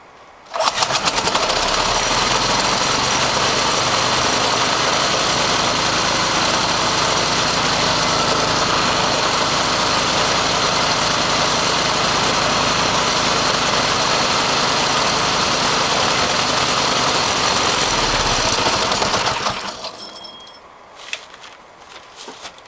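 A small go-kart engine sputters to life and runs loud and close at a steady, buzzy idle for about twenty seconds, then cuts off, leaving a few faint clicks.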